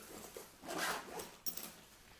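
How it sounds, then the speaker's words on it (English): A zipper on a Crumpler camera and tablet backpack is drawn shut in two quick pulls, each a close, brief rasp, followed by a sharper click. "Zip it all together"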